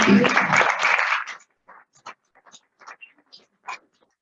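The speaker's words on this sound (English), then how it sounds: "let's welcome him with a round of applause" A short burst of audience applause welcoming a speaker at a festival talk, dense at first and then thinning into a few scattered, separate claps before fading out.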